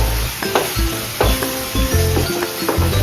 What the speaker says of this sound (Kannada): ಇಷ್ಟನ್ನ ಆ್ಯಡ್ ಮಾಡಿ ಸ್ವಲ್ಪ ತಿರುಗಿಸೋಣ